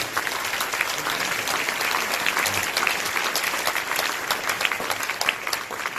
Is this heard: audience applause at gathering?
yes